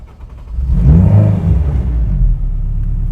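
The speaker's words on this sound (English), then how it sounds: "let's go ahead and fire it off and get the engine running real quick here" Turbocharged Honda K-series engine cranking and catching, then settling into a steady, loud low rumble at idle close by, with no talking.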